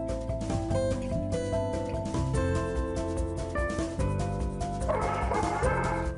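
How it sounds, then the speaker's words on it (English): A pet dog barks and yips in short bursts, mixed under loud background music that runs throughout, fairly close. "My dog is Sunshine"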